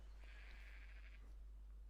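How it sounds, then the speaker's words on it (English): One faint, wavering sheep bleat from the video game Black & White (2001) lasting about a second over a low constant hum. "I just heard a sheep."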